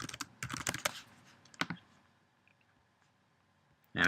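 Close keyboard typing comes in bursts of quick clustered keystrokes for about two seconds. A few faint taps follow in a quiet room, then a louder burst of noise at the end.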